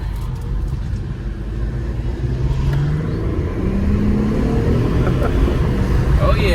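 A 2019 Infiniti Q50 with the twin-turbo V6 idles steadily at close range, a low even drone that swells slightly toward the end while people talk nearby.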